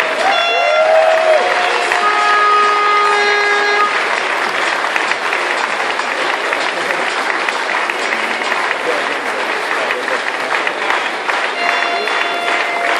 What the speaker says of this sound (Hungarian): Jár a taps a fiúknak